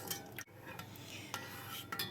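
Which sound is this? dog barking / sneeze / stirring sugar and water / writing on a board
stirring sugar and water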